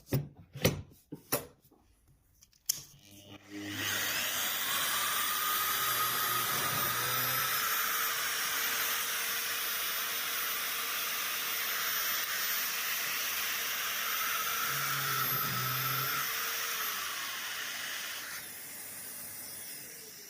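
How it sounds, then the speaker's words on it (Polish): A drill bores hanger holes a millimetre from the edge of a workpiece backed with HDF board, a steady loud whirring hiss running about fifteen seconds after a few sharp knocks. "wiercimy tutaj milimetr od krawędzi"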